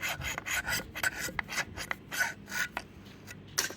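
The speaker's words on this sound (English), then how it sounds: "I thought that these handles would just take a little sanding," Rhythmic rasping strokes of sandpaper or a file scraping back and forth over the wooden handles of rusty Pulaski tools, close up, with short pauses between passes.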